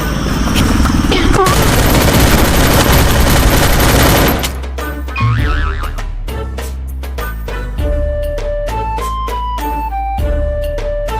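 Rapid, loud burst of gunfire as a sound effect in a Hindi comedy sketch, a dense fusillade lasting about four seconds, followed by scattered single shots and musical effects.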